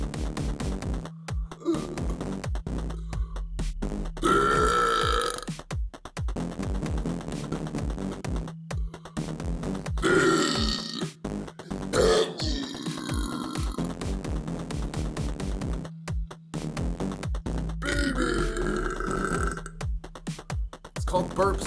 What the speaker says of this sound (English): It's just burping.